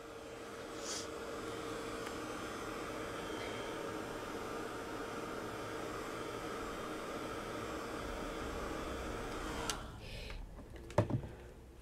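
A heat tool blows a steady, airy whir while drying paint on a mixed media heart, holding constant at close range for about ten seconds before cutting off, followed by a few brief clicks and knocks.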